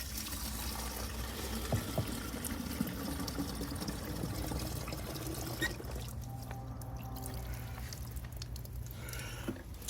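Water pours into a project car during a water test before filling, a steady close trickling and gurgling that thins out and grows quieter partway through.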